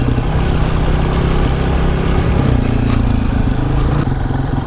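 A 450 dirt bike engine roaring continuously while ridden around a tight track, loud and close with a rough, pulsing drone that shifts slightly in pitch as the throttle changes.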